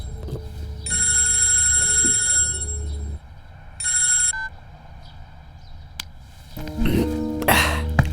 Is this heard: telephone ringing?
yes